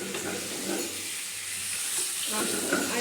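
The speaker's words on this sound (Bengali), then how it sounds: "একটু সামান্য ভেজে নেব আগে।" About 800 grams of chicken, coated with salt, a little oil and turmeric, lightly frying in a pan, a steady close sizzle with soft stirring bursts and rising hiss toward the end.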